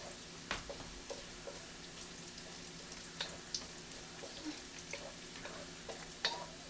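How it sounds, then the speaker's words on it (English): Shallots frying in oil make a faint, steady crackle with sparse, sharp pops scattered throughout. No one talks. "these shallots are starting to brown up a little bit"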